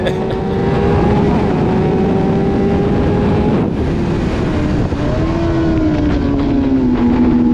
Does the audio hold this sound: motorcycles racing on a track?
yes